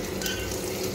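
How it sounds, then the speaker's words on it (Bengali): Onions frying in a pan, a steady broadband sizzle that holds at an even, moderate level for the whole second with no voices. "পেঁয়াজ ভাজছি"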